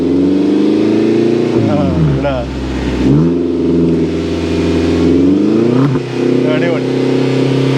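A modified Suzuki Jimny Brabus with an aftermarket exhaust revs loud and close, its engine note climbing and falling through a few throttle blips over a steady idle, with a brief spoken comment mixed in.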